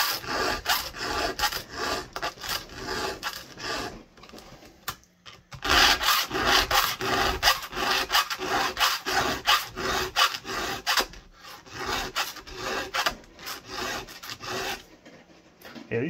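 Steady back-and-forth rasping of a Notch brand hand file on a chainsaw chain, repeated strokes in quick rhythm, close up, with a brief pause midway.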